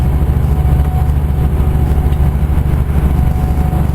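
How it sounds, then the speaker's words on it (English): A heavy truck engine rumbles steadily and loudly nearby as it passes, a constant deep roar with no pauses or voices. "you hear the roar of the engine of it"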